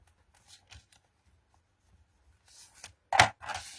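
A bone folder burnishes a scored crease in a paper strip, giving a few faint soft scrapes and then two louder quick rubbing swipes near the end, close and alone.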